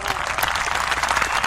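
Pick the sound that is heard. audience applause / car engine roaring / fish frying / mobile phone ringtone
audience applause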